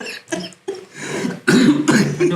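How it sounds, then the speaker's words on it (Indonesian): Several hoarse coughs and throat-clearing bursts from an adult, close to the mic, coming in short irregular fits over about two seconds with brief pauses between them. "Aduh batuk."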